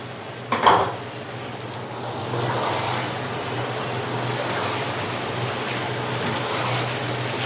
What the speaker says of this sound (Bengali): এখন আমি এটাকে একটু ভেজে নেব।